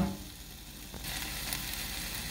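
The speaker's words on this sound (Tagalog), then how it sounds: "Haluin na po ito." Pork and vegetables such as carrots, broccoli and spinach sizzle in a pan while being stirred, a faint hiss that swells into a loud, steady frying crackle close by, with no talking.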